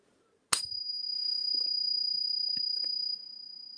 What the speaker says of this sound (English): This is my favorite coin to ping in this thing.